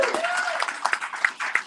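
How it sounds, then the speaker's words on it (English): A Sunday service congregation claps for the musician, with brief scattered applause and distinct individual claps under overlapping voices. "Let's give a round of applause first to Alan for our music."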